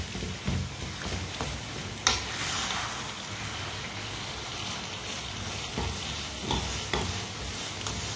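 Mustard greens saag is mashed and stirred as it cooks in a pot, giving a continuous low sizzling bubble with scraping strokes and an occasional sharp knock of the utensil against the pot.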